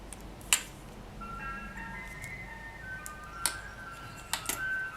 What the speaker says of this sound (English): I'm wondering if you can hear the ice cream truck in the background.